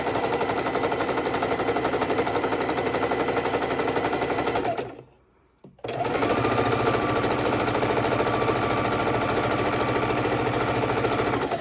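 A sewing machine runs a straight stitch across quilt fabric, making a loud, rapid, steady mechanical clatter up close. It stops for a brief pause and then resumes at the same pace.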